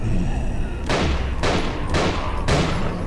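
Gunfire in Nightmare House 2, four heavy shots in a steady rhythm about half a second apart, loud and close over a low ambient hum, each with a short booming tail.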